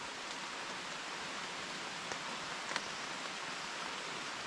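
Steady rain beginning to fall in a jungle, a continuous hiss of drops with a few sharper isolated taps, moderately loud and alone without voices.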